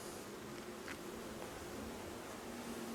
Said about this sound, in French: Beaucoup d'abeilles.